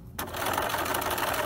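A sewing machine stitches the final seam of a pillow, starting abruptly and then running in a steady, fast, close rattle for the rest of the moment, with no voice over it.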